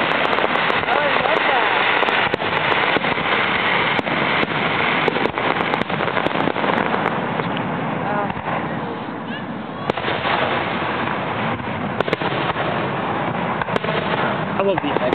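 Fireworks crackle steadily over a lake, a dense continuous hiss and sputter like rain, with occasional sharper pops, heard at moderate distance while people talk nearby.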